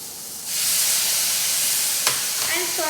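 Soy sauce hits a hot pan of stir-fried vegetables and tofu, bursting into a loud, steady sizzle after a quiet start, with a brief clink of a utensil and a few faint high squeaks near the end.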